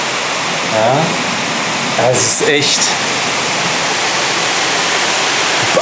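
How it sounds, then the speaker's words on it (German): A dense wall of heavy rain pours down during a thunderstorm in Berlin, a loud steady roar of water throughout, with a person speaking over it and a few short clattering bursts. "es ist wirklich total eine Regenwand"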